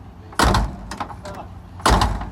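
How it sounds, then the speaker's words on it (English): A door on an Oldsmobile 442 slams shut twice, about 1.5 seconds apart, each a loud, close thud with a metallic rattle. Faint knocks come between the slams. "The doors close like brand new, except when they don't."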